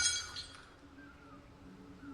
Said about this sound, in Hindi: लेकिन तभी गलती से एक बोतल गिरकर टूट गई।